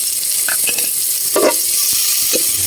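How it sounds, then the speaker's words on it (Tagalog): Onion and garlic sautéing in hot cooking oil for pinasarap na miki, a loud close hiss of frying with a few scraping stirs and clinks from the pan, no talking. "mainit na po yung ating mantika, no? lalagay po natin yung sibuyas natin at yung bawang ayan, igigisa lang po natin yan"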